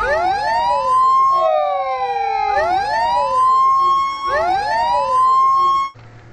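A toy ambulance siren wailing in repeated electronic sweeping cycles, several loud rising-and-falling whoops close to the microphone before cutting off abruptly.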